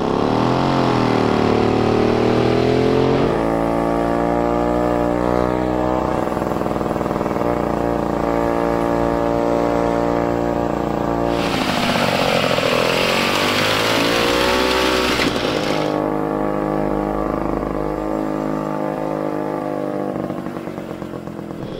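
A ČZ 175 tractor engine being revved after sitting for 25 years, a loud, close two-stroke buzz that climbs and falls in pitch through several throttle surges and runs steadily for the whole stretch.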